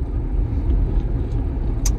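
A 2010 Dodge Charger with an EGR fault, its engine giving a steady low rumble with a faint rough undertone, close by, and a brief higher rattle near the end.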